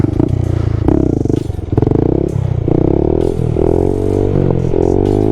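A Honda Grom motorcycle engine revs hard and steadily during a stunt wheelie, loud and close with a rough buzzing drone that dips briefly and then surges again, alongside some rattling clatter.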